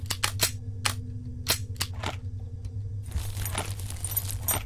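Gun reloading in the video game The Final Station: a run of sharp metallic clicks and clacks, some spaced and some in quick pairs, over a steady low game hum, with a denser rattling texture toward the end.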